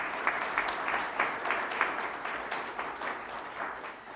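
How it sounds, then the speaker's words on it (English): Audience applause at a charity grant announcement for children's health programs at the University of Louisville: fairly soft, dense clapping from a crowd with small rhythmic surges, tapering gently toward the end. "So another round of applause."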